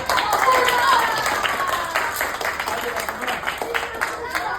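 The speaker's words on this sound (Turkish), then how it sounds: "Hadi alkışın bakalım alkış." Children clap together in a kebab restaurant, a brisk burst of many small hands that is loudest at the start and slowly thins out, with voices mixed in.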